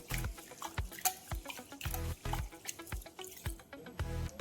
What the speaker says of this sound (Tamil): இந்த அரிசியும் பருப்பையும் ரெண்டு மூணு தவணை நல்லா கழுவிட்டு ஒரு அரை மணி நேரம் ஊற வச்சிருவோம்